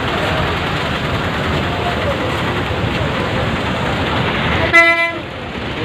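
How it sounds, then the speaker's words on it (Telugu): Traffic stuck in a jam on the Penna river bridge rumbles with a steady wash of road noise, then a single loud car horn blares briefly near the end. "బ్రిడ్జి మీద, పెన్నా బ్రిడ్జి మీద ట్రాఫిక్ జాము."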